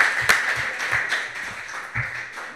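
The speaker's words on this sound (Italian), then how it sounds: "Un applauso." Applause from an audience at an evening health session of a sustainability conference, with scattered, fairly sparse claps at moderate distance and irregular rhythm.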